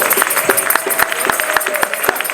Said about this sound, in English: Please join me one more time in a round of applause for my co-MC, the one and only Brother King Simon